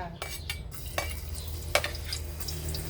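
Garlic frying in a few spoonfuls of oil over medium gas flame, a soft steady sizzle under scattered clinks and scrapes of a spatula stirring in the pan.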